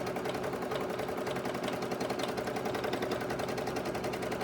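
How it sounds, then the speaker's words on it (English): A Brother Innovis NS2750D sewing machine runs a steady embroidery stitch, a fast even mechanical chatter that continues close and unbroken throughout. "And we can just sit here and watch it do the embroidery."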